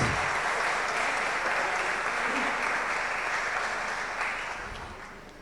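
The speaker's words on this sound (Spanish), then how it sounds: "Acompañamos con el aplauso la entrega de certificados a la profesora Silvia González." Applause as a professor receives certificates at a formal presentation, a thick, even burst of audience clapping that holds steady and then tapers off near the end.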